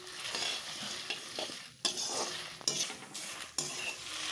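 Cardamom, fennel seeds and cinnamon dry-roast in a pan with a soft crackling sizzle, broken by several sharp scraping stirs of a spoon against the metal, close and fairly quiet with no voices.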